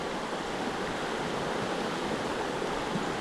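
River rapids in a trout stream, a dense steady rush of flowing water close by with no talk.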